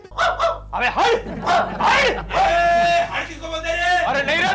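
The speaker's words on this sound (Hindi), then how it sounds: "अभी तक सिर्फ एक कुत्ता भौंक रहा था," A dog in an Indian TV sitcom scene barks loudly and repeatedly in close, uneven bursts, with a few yelps, while people talk over it.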